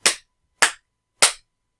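Three sharp, loud group claps struck in unison about half a second apart, each a crisp burst from an audience clapping together on a countdown, with silence between.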